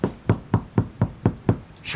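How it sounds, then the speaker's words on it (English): Seven evenly spaced knocks on a door land in a quick, steady rhythm, close and fairly loud, with a faint breathy sound at the end. "she knocked on the door."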